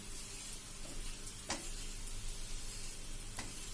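Cabbage paratha cooking in an oiled pan gives a soft steady sizzle and crackle, with a couple of brief sharp scrapes as it is turned or stirred.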